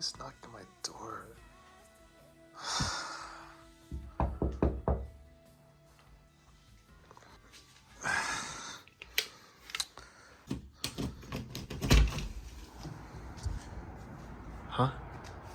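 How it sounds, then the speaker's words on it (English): Knocking on a door in a Cardfight!! Vanguard DivineZ anime scene: a few sharp knocks, spaced out, come between stretches of talk and background music. "knocked on my door?"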